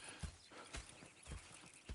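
Hooves clip-clop at a steady walking pace in the video game Red Dead Redemption 2, four or five soft thuds close by, with a faint background hiss and no voices.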